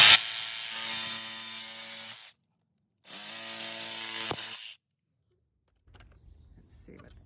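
A power tool cuts across the middle of an old wooden chair in two separate bursts of whirring, buzzing work up close, with a short pause between them and faint handling noises afterwards.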